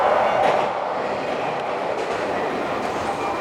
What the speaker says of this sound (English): This sound that a train is coming by is not unpleasant.